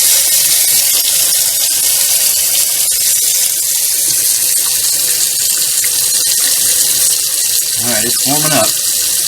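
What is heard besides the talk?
water running from a kitchen tap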